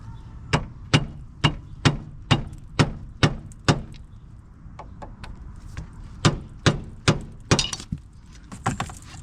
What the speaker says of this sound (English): You want to give it a nice shot with the hammer.